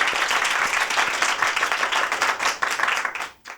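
Audience applause for the actors at a stage play of Andhon Ka Hathi: dense, steady clapping from a full crowd, holding loud before thinning out and stopping at the very end.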